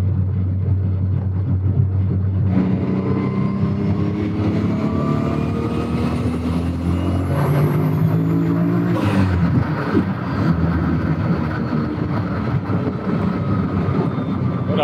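An older VW Golf with a tuned engine accelerates hard on a test drive, heard from inside as a loud, rising engine roar that climbs through the revs, drops briefly at a gear change, then pulls again, with some voices.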